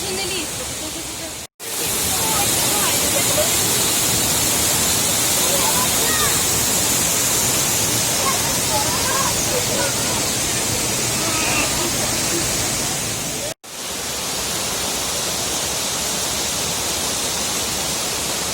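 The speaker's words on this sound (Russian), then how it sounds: "Водопад Шипец." Shypit waterfall in the Carpathian mountains roars as a loud, continuous broadband rush of falling water, close by and unbroken apart from two brief cuts, with faint voices under the noise.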